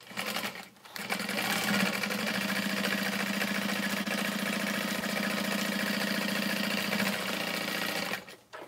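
A sewing machine runs at a steady even speed for about seven seconds, stitching a fabric Emily tote bag. Its motor hums and the needle chatters loudly and close before the machine stops.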